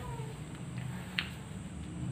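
An aggressive female cat gives a brief, faint meow early on, heard over a constant background hum and low noise.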